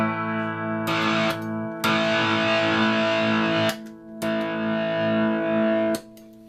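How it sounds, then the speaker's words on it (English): Electric guitar through a RAT-style distortion pedal, distortion at noon, playing sustained chords in several bursts, with short silent gaps between strums and ringing harmonics. "I'm gonna pull up the distortion to noon and volumes"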